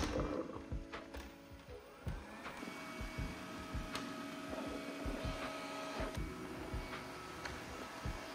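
A Cecotec Conga 11090 Spin Revo robot vacuum cleans a room, giving a steady mechanical whir and hum with faint ticking and small knocks throughout, at a moderate level with no speech.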